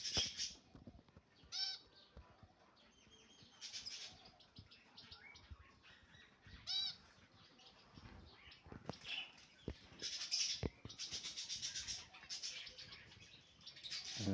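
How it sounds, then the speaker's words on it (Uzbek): Small caged amadina finches chirp and call in scattered bursts at close range, with wing flutters and faint household background between the calls. "Mana bular Amadina qushlar."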